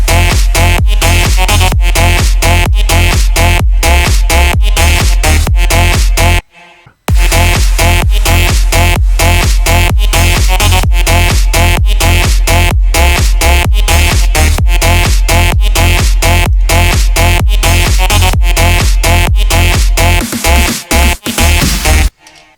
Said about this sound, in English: It's saw wave combined with the vocal chops